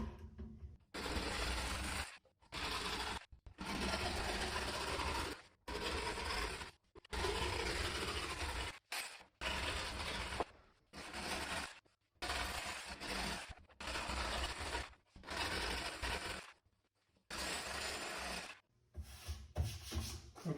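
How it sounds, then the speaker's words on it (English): A jigsaw cuts from hole to hole through a bathroom vanity panel, buzzing loudly in repeated bursts of one to three seconds separated by short silent gaps as the cut is started and stopped. "And now I just need to go with the jigsaw"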